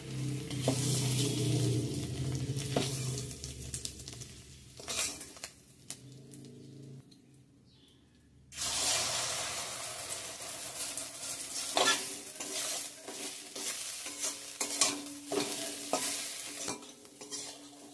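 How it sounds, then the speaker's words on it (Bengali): Egg omelette frying: oil sizzles and crackles in a pan with occasional scraping stirs, pausing briefly midway before the frying resumes, close and fairly loud. "ডিমের অমলেটটাও ভাজা হয়ে গেছে বন্ধুরা, দেখতেই পাচ্ছ।"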